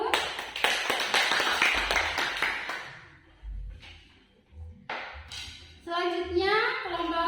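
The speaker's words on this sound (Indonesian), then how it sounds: "Berikan tepuk tangan terlebih dahulu." A class of students claps after a group presentation in a classroom, a short burst of close, lively hand clapping lasting about three seconds, followed by scattered children's voices talking.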